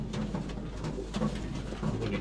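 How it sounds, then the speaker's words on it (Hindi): Tokri wale basket-breed pigeons coo close by in soft, low, repeating rolls, a steady murmur of several birds under a constant low background hum. "ये टोकरी वाले कबूतर है दोस्तों"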